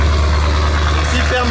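A car engine at an auto show roars loudly and steadily with its exhaust valves open, a close, heavy drone with a crowd murmuring underneath.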